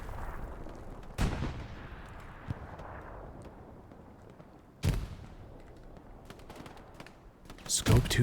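Artillery shells land in the Hell Let Loose battle on the Omaha map: three sharp, loud blasts about four seconds apart over steady battlefield rumble, with faint voices underneath.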